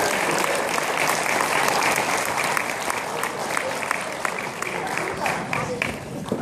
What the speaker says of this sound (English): Big round of applause. Cheese rocketry